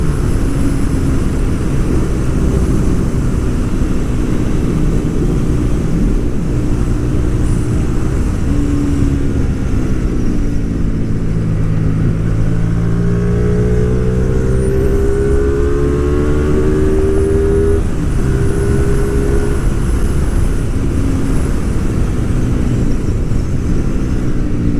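A Hyosung GTR250R motorcycle engine drones loud and close while riding on the road, its pitch rising and falling steadily through gear changes for the whole stretch, with wind noise underneath.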